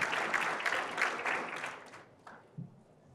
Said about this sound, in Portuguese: Mais uma vez, pessoal, uma salva de palmas